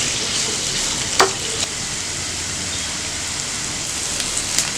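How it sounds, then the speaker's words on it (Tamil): Onions, curry leaves, cinnamon and cloves sauté in a pan for mutton liver curry, giving a continuous close sizzle and crackle with a few louder pops and stirring clicks. "இப்போ வெங்காயம் நல்லா வதங்கிடுச்சு."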